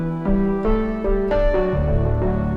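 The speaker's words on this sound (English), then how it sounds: "I'm going to be using this sound inside Pigments called Dark Roads to Heaven." Synth patch 'Dark Roads to Heaven' from the Pigments software synthesizer, a crunchy, rigid tone for a dark ambient beat. A few sustained, buzzy notes change pitch in a short melodic line, played alone.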